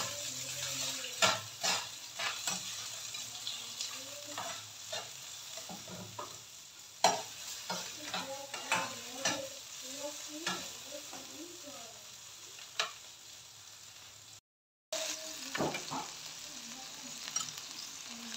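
A seafood mix stir-fried with golden-browned seasoning ingredients in a pan, a soft continuous sizzle broken by repeated spatula scrapes and taps, fairly quiet and close, with a brief dropout near the end.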